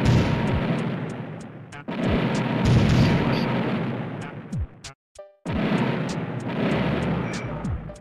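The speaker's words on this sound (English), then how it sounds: "Many explosions." Repeated heavy booms and blasts from a Nintendo 64DD video game erupt in quick succession, loud and close, with brief gaps and a sudden cut to silence midway before the explosions resume.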